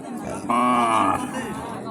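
A cow lows once at a crowded cattle market, a loud, close moo of under a second rising over the constant hum of the crowd and people talking nearby.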